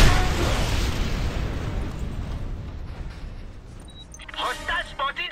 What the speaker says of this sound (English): And running away from an explosion.